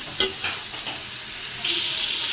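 Bone-in chicken fries in a pot for vegetable soup, giving a bright steady sizzle with a few soft stirring knocks early on. Partway through, the sizzle jumps louder and holds.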